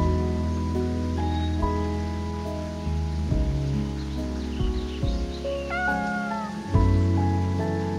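A cat meows several times in the video game Lovebrush Chronicles, with soft mid-pitched mews over gentle game music and light rain-like ambience.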